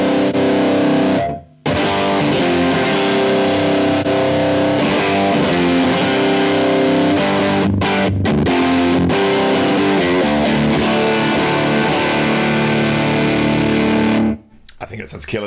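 Electric guitar played through a fuzz pedal into a Two notes Genome amp simulation, a thick, heavily distorted sustained riff with chords and notes ringing continuously and loud, briefly cutting out at the start and end.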